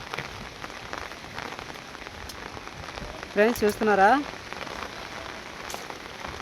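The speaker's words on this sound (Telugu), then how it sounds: "చాలా పెద్ద గాలితో వర్షం అయితే వచ్చేసింది" Heavy rain driven by strong wind hisses steadily across surfaces, a close, constant wash of noise, with someone talking briefly partway through.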